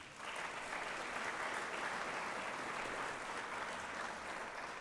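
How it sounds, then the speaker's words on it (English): An audience at a celebration dinner gives a steady round of applause for a musical trio's interludes, a dense, even wash of clapping at moderate level that holds without break for the whole stretch. "A round of applause"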